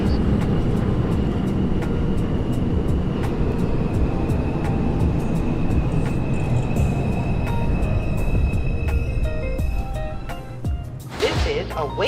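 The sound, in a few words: New York subway 2 train running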